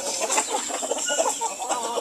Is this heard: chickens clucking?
yes